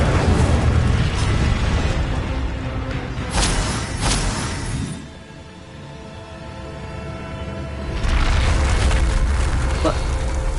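An Incendio fire spell bursts in Hogwarts Legacy, a loud booming blast followed by a second burst, then a quieter lull before another rumbling swell, with a voice speaking over the effects.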